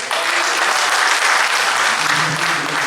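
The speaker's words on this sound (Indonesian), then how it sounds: "Mari tepuk tangan yang meriah." A plenary session audience of the Malang city council (DPRD Kota Malang) breaks into lively applause for the mayor, a loud, dense burst of clapping that stays full throughout, with faint voices under it.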